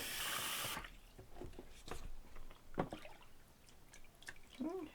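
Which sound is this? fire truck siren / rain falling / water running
water running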